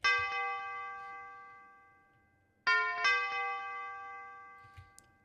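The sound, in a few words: bell sound playing three notes in a trap beat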